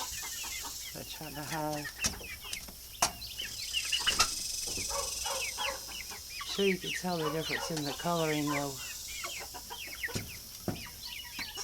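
Backyard hens and roosters clucking and calling in short repeated bursts close by, with a person talking over them throughout.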